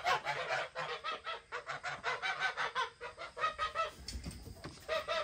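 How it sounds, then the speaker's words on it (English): Farmyard geese honking in a rapid, insistent series of loud, close calls, overlapping one another almost without pause, with a brief lull and a low thud near the end. "Let's check the geese and the turkeys."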